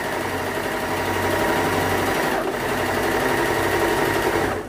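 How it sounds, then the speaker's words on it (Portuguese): A domestic sewing machine stitches knit pants with a continuous close whirring hum and rapid needle chatter, running steadily without a break. "Para quem quer costurar para si mesmo, a máquina caseira é ideal."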